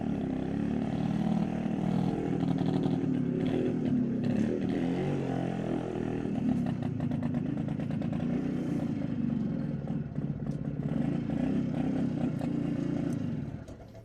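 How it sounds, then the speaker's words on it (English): A 1969 BSA Bantam B175 motorcycle engine runs steadily and loud for the whole stretch, with a dense low-pitched drone and some mechanical clatter, close by with no speech. "BSA Bantam B175, 1969."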